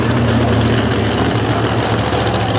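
A mega truck engine roars loud and steady at an outdoor monster truck and mega truck racing show, giving a continuous low rumble with no break.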